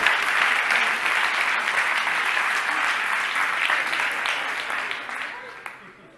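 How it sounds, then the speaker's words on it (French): An audience claps loudly as a volunteer walks onto the stage at a mentalist show, with a dense, even ovation that fades out over the final second. "On l'applaudit bien fort."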